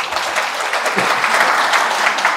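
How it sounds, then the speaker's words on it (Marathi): A lecture audience breaks into brisk, close applause of many hands for a hardworking man who has just been thanked. The clapping is dense and even for a couple of seconds, with a brief low thump near the start. "यांच्यासाठी टाळ्या वाजवू आपण"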